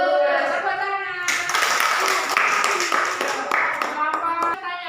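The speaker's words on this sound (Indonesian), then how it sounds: "Nah, tepuk tangan." A class of pupils claps their hands together in a dense burst lasting several seconds, with a voice speaking at the start and end.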